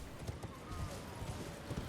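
Horse hooves clip-clopping at a steady trot while riding in the Elden Ring video game, with rhythmic, fairly faint thuds repeating throughout the brief moment.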